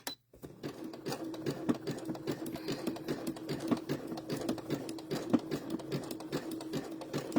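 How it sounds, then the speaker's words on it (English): A sewing machine stitches appliqué apples and a worm onto a dish towel, running in a continuous rapid clatter of needle strokes, close and steady after a short pause at the start. "So we are sewing apples and a worm on a dish towel"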